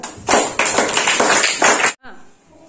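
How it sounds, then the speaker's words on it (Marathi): A classroom of children claps together in a dense, lively burst that lasts under two seconds and then stops abruptly, with voices mixed in. "टाळ्या वाजवा"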